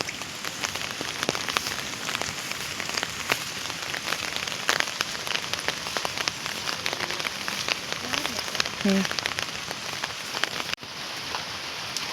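Steady rain patters densely on a nearby surface, loud and constant throughout, with a faint voice briefly underneath.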